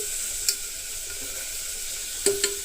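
Onions seasoned with salt and turmeric frying in a pan give a soft, steady sizzle throughout, broken by a few sharp clinks of a utensil against the pan near the start and end.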